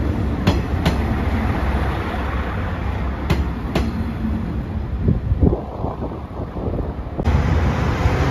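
A JR Shikoku Class 1500 diesel railcar at Tokushima Station on a snowy day gives a steady, fairly close rumble mixed with heavy wind buffeting on the microphone, with a few sharp clicks and clanks along the way.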